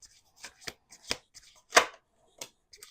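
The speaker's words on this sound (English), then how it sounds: "Let's do 2 more shuffles" Tarot cards being shuffled by hand, a series of soft, separate riffling and slapping bursts at uneven intervals, close and quiet with silence between them.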